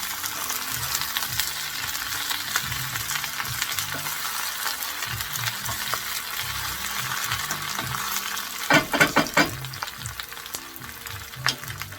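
Food fries steadily in a pan for salmon en croûte, a constant close sizzle broken by the scrape and clink of a utensil stirring, with a brief burst of metallic rattling toward the end.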